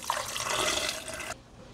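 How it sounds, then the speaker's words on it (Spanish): Cooking water from boiled tomatoes is poured in a steady, close splashing stream for just over a second, then cuts off sharply, leaving faint room noise. "Van a poner agua con que cocieron los jitomates."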